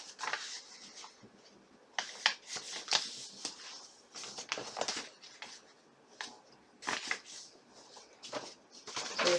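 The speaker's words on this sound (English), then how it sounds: "Now fold your square twice" Paper being folded by hand, a square sheet creased in half twice, heard as close, quiet rustles and crisp crinkling in irregular bursts.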